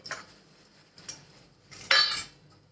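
Plates being handled while they are oiled and wiped with tissue, giving a few light clinks and a sharper clatter of dishware, close and fairly quiet, with no voices.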